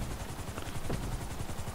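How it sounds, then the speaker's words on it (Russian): A helicopter flying in the video game GTA 5, with a steady rhythmic rotor thudding and a continuous engine drone held at a moderate level throughout, and no talking. "Да, вертолетом-то я умею управлять."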